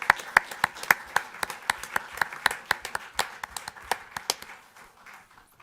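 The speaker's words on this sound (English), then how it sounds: "Please applaud." A city council meeting audience applauds an honoree, sparse individual claps ringing out at a moderate pace before thinning and fading away toward the end.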